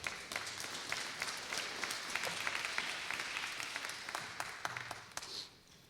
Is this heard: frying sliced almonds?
no